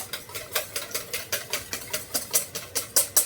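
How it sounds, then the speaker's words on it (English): Eggs being whisked in a bowl for a cheesy squash casserole, a steady fast rhythm of close, sharp clicking strokes of whisk against bowl, evenly paced and growing slightly louder. "to do whisking, you want to do it at an angle"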